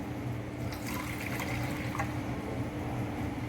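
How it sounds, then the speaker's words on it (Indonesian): Water running steadily into a container holding a few drops of Sneaker 101 shoe-cleaning soap, a continuous close splash and trickle with no talk. "Kemudian kita masukkan airnya."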